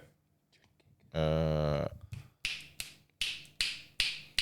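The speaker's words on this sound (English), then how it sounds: "you have a really loud finger snap" A single voiced burst is followed by a run of sharp, loud finger snaps, six or so, spaced about half a second apart and close to the listener.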